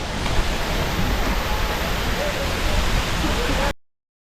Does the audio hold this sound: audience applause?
no